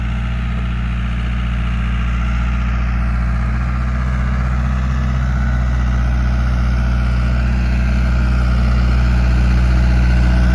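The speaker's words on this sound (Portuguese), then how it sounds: "E o trator não para." Steady, loud tractor engine drone while tilling and turning soil to plant grass for cattle and goat feed, running continuously without pause and close up.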